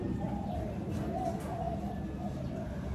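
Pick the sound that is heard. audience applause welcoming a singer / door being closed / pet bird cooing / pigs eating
pet bird cooing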